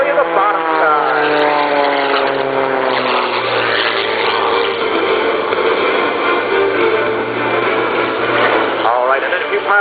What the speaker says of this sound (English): pulling Rob forward with that whirlwind propeller